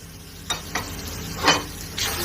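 Spices, including red pepper flakes, ground red pepper and salt, sizzle in a hot pan while a utensil stirs them, making a few soft scraping strokes over a faint continuous fry, close and without voices.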